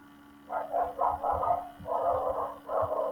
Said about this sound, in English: Can my dogs calm down for once?